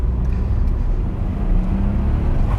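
A learner driver's car engine droning steadily and loud, with a low rumbling hum that swells slightly as the accelerator is pressed, close and continuous throughout.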